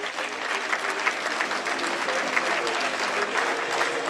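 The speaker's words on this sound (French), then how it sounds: "On peut l'applaudir s'il vous plaît." Steady applause from an audience at a professional table tennis match between Roanne Loire Nord TT and Nantes TTCNA, dense and continuous throughout, with faint crowd murmur beneath.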